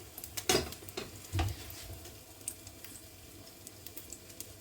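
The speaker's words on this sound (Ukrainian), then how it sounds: "Пироги наші смажуться." Soft, steady sizzling of spinach pies frying in a pan over low heat, with a couple of louder scraping clinks near the start and no voices.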